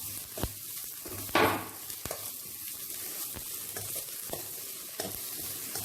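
Half a chopped capsicum and other vegetables stir-frying in a pan for fried rice: steady close sizzle with sharp scrapes and knocks of a spatula repeating every half second or so.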